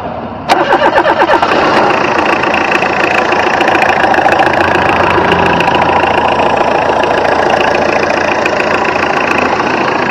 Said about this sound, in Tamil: வாங்க வண்டியோட இன்ஜின் சவுண்ட் எப்படி இருக்கு அப்படிங்கறத கேட்போம்.